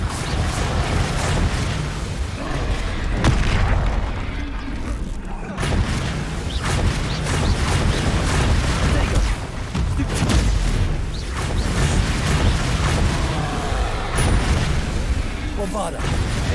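Explosive spells going off in the video game Hogwarts Legacy, dense booms and bursts with blasts and crackling debris nearly continuous at loud level, a voice calling out over the action.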